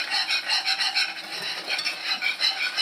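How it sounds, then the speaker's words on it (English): A whisk works steadily through Alfredo sauce thickened with cheese on low heat, a soft rhythmic scraping and swishing that pulses several times a second, close by and fairly quiet. "And then I'm just gonna whisk this."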